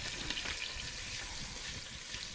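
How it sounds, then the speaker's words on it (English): Beef browning in a pan for stew gives a steady, even sizzle with soft crackling, fairly quiet and without talk. "You hear the sizzle."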